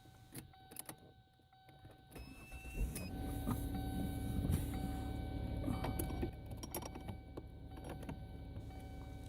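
A Kia or Hyundai car engine idles steadily with a low, constant hum after starting, accompanied by faint clicks and rattles nearby during brake switch work.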